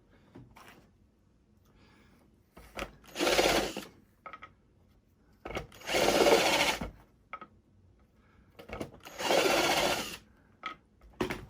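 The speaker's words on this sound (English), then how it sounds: "So again, I'll just drill it." A power drill whirs in three short bursts as it bores into pallet wood, with quiet handling clatter in the pauses between.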